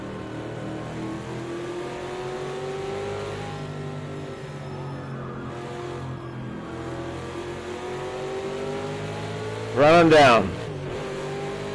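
A race car engine revs and drones steadily in Project CARS 2 while a nearby voice talks over it, pitch climbing gradually before a sharp, louder rev spike near the end.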